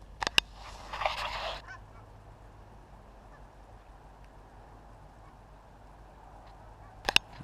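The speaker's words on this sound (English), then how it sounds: "Bunch of geese." Geese honking outdoors on a rainy day in Fairbanks, Alaska, a couple of brief bursts of honks at a distance, with a quiet lull between them over soft ambient noise.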